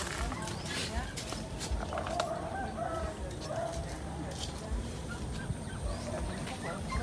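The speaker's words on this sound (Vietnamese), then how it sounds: "Cháu có cháu gà nè, cháu vịt nữa." Chickens, including a crowing rooster, call on a farm in a durian orchard at Cái Bè, Tiền Giang, with faint clucks and crowing scattered under a steady outdoor background of rustling and noise.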